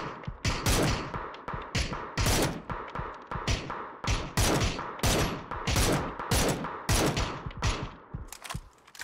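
Bursts of automatic gunfire from the PUBG video game crack in rapid clusters, loud and close, with short pauses between volleys and no talk over them.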